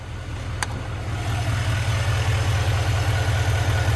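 A GMC Sierra 2500HD AT4X pickup's Duramax turbo diesel idling, a steady close low rumbling throb with a faint brief click early on, continuous and without talking.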